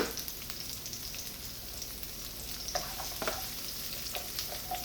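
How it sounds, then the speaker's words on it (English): Shallots and garlic fry in oil, giving a constant bright sizzle close by with scattered small pops and stirring clicks, and no voices. "the garlic coats the oil. Put your shallots in."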